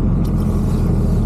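Truck engine hauling a loaded equipment trailer carrying a Caterpillar D2 dozer up steep hills, a steady low rumbling drone heard from inside the cab, continuous and loud with no talk.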